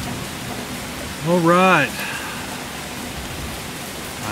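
Steady rain falls through the woods at night as an even, hissing wash that never lets up, with a brief spoken phrase partway through.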